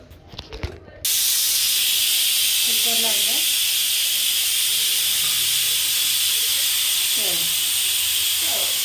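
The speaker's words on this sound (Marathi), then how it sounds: "तर चला मी पहिला लावते इकडे कुकर" A steady, loud hiss of escaping steam runs nearly throughout, following a brief spoken word at the start, with a few faint chirps in the background.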